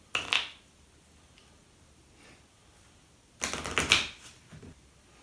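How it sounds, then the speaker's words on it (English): A deck of cards being shuffled during a tabletop board game, two short bursts of riffling and clattering separated by a quiet pause, close and moderately loud. "Now I need to shuffle."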